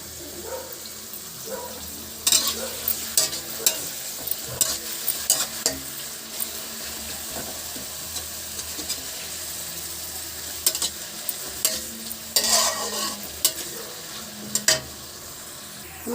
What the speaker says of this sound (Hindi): हमें तब तक फ्राई करना है जब तक ये गोल्डन ब्राउन ना हो जाए।